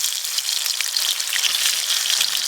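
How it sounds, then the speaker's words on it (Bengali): Dried chili and cumin paste fries in hot hilsa fish oil with black cumin, a bright, dense crackling sizzle with scattered pops, close and steady throughout. "এবার শুকনো লঙ্কা আর জিরে বাটা দিয়ে দেবো"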